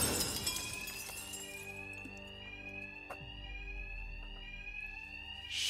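Alarms ring inside the Batman Arkham Knight video game, a steady sustained electronic tone held for several seconds after a brief clattering burst at the start, fairly quiet overall.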